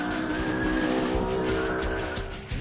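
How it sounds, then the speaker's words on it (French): A Ford Mustang's engine roars steadily while its tires squeal and skid on pavement, loud and close for over two seconds with no voices. "On entend le moteur qui rugit"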